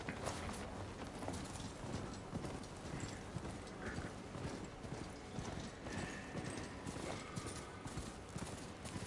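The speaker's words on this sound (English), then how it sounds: "I keep forgetting I have a horse." Steady hoofbeats of a robot horse in the video game Horizon Forbidden West clop along in a quick, even rhythm, fairly faint, continuing throughout without any voices.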